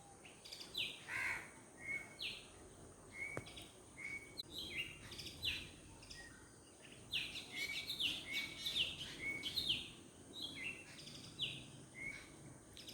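Egret and chick calling near a nest, short high chirps and squawks repeating in irregular clusters over a steady insect hum, fairly close and moderately loud, no talking.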